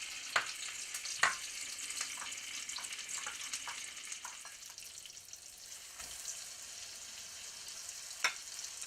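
Tomatoes frying in a pan, Italian style, give a soft continuous sizzle with scattered sharp pops and a few clattering ticks, fairly quiet and close, with no voices.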